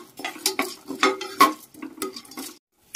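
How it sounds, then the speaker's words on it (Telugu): Peanuts, chana dal and urad dal stirred in hot oil in a metal pan, a run of sharp spoon scrapes and clinks in an uneven rhythm over a faint sizzle, then a brief pause. "వేడెక్కుతున్న ఈ నూనెలో ఒక గుప్పెడు వేరుశెనగ గుళ్ళు వేస్తున్నానండి"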